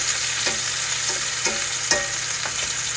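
Ribeye steak fries in butter in a pan, a continuous moderate sizzle punctuated by several sharp spits and pops at irregular intervals, with no talking.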